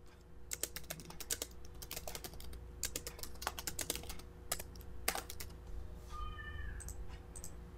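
Text is typed on a computer keyboard in quick, close, fairly faint clicks and bursts of keystrokes, and near the end a cat meows a couple of times.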